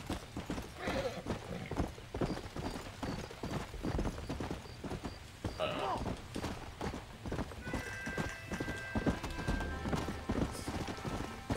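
Horse hooves clip-clop steadily in the Western video game Red Dead Redemption, a close rhythmic trot with occasional whinnies and faint game ambience, with no voices heard.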